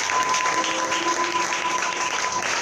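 Audience at an evening church conference plenary in a large hall: continuous, dense applause with crowd cheering, steady and loud throughout, with a faint sustained tone underneath.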